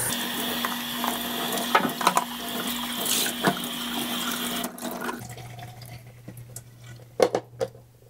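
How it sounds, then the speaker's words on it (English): Tap water runs and splashes steadily to rinse a plastic part of a Hoover carpet shampooer in a sink, then cuts off partway to leave a quieter hum, with a few knocks and clunks of handling the part. "So I'm going to rinse that off a little better."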